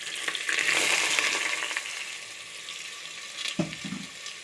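Crushed ginger, garlic and shallots dropped into hot coconut oil, a loud close sizzle that gradually settles, followed by a few clattering stirs of a spoon near the end.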